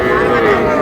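A Friesian bull calf at the Raniganj cattle market gives a short, steady moo up close, with voices mixed in under the call.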